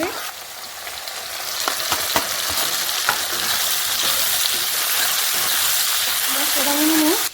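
Chopped tomato hits onions already fried deep brown in a pan for a shrimp and bean-seed curry. It gives a loud, steady sizzle with a few sharp stirring clicks, and a faint voice comes in near the end.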